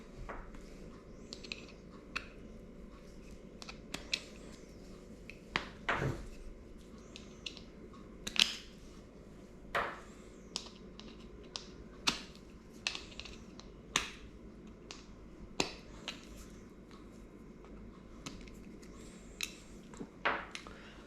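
Screws being removed from the sole of a SIDI Crossfire 3 cycling shoe, a scattered series of sharp clicks and metallic ticks at irregular intervals, fairly close and quiet against a low room hum.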